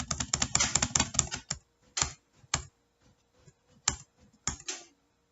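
Keys on a computer keyboard being tapped as numbers are entered into a running program, a dense burst of quick clicks followed by sparser, separate keystrokes and short pauses, close and clear with no talking.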